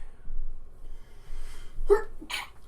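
A single sharp sneeze bursts out near the end, preceded by a quick intake of breath over quiet background noise.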